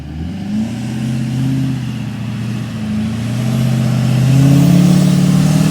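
A Duramax truck climbs a hill during a tropical storm, its engine droning low and close, the pitch sagging and then rising as it pulls harder toward the end.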